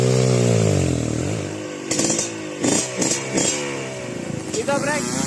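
A motorcycle engine on a dirt trail, idling and revving in uneven bursts close by, with people talking over it.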